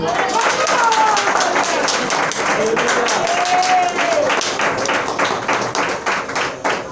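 A church congregation applauds steadily and loudly during a sermon, dense rapid clapping with a few raised voices mixed in, continuing for several seconds.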